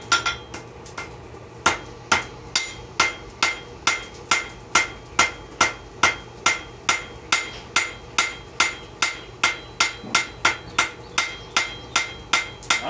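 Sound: hammer forging copper and wrought iron coffee scoop

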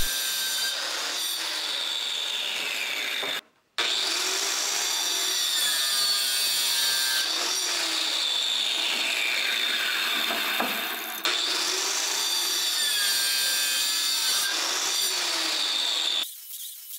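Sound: sawing wood pieces for a newborn photo basket

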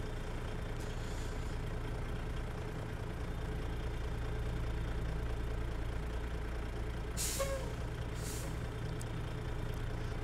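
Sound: truck air brake from a video game, Zeemods sound mod

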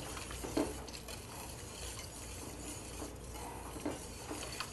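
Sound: whisking mushroom soup

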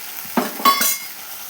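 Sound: prawn malai curry cooking with coconut milk in pan

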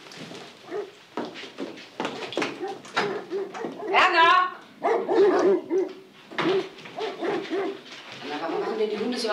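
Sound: dogs barking

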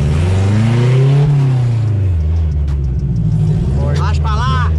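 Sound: Chevette car engine revving

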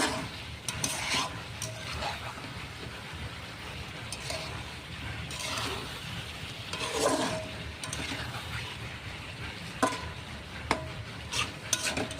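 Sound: stirring fish frying in oil

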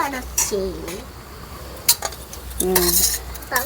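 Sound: cutting a bread roll sweet into pieces

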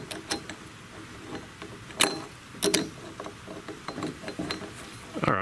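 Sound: removing Yamaha rocker arm with needle nose pliers

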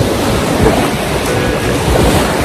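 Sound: waves of the cold Baltic Sea at beach

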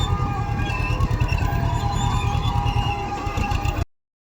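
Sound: tractor running on farm field

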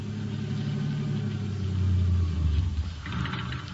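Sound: car engine idling

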